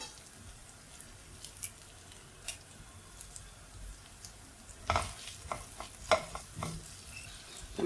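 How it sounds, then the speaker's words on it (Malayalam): Ginger, garlic and curry leaves fry in a pan for a cauliflower-potato masala, a low steady sizzle beneath scattered spoon scrapes and stirring clicks that grow busier and louder toward the end. "അതും കൂടെ ചേർത്ത് നന്നായിട്ടൊന്ന് ഇളക്കി ഇഞ്ചിയുടെയും വെളുത്തുള്ളിയുടെയും പച്ചമണം മാറുന്നവരെ ഒന്ന് ഇളക്കി യോജിപ്പിക്കാം"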